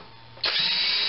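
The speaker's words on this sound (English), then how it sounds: "put a tapping tool in your drill, but do not forget to oil the tapping tool." A power drill fitted with a tapping tool kicks on abruptly after a moment of quiet and holds a steady, loud, high whine to the end.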